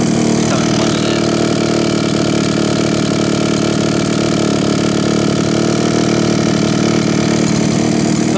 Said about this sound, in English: I love the sound of a two-stroke, and I love the sound of little ones like this.